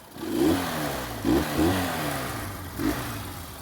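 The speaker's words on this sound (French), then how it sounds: "Le moteur, il fait un petit bruit, c'est très doux, très agréable." A Honda CB 125 K5 motorcycle engine idles close by with a smooth, low rumble, giving a few gentle throttle blips that briefly raise the pitch.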